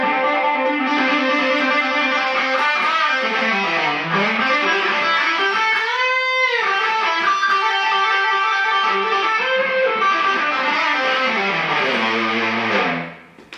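A distorted electric guitar plays a fluid legato run of hammer-ons and pull-offs, its sustained notes sliding smoothly up and down in a loud, continuous phrase with a brief bent wobble midway, before ringing off at the end.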